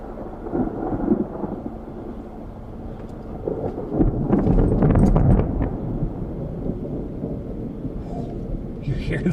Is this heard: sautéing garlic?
no